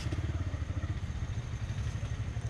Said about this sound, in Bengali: এখানে রাখি বাইকটা।